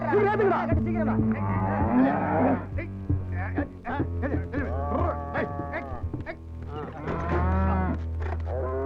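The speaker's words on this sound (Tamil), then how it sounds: "ஏனே லாரியில மாடுகளை எங்க ஏத்திட்டு போறீங்க?" Cattle carried in a lorry low repeatedly over a steady engine hum, the calls overlapping and close, lasting throughout.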